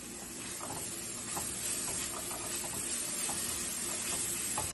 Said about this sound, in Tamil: ஸோ வெங்காயம் குயிக்காக வதங்கி வந்துடும்.